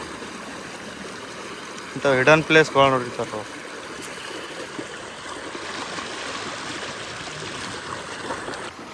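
Water from a canal flows through a narrow channel toward a field, a soft steady trickle and gurgle running throughout, briefly under a man's short remark before carrying on alone.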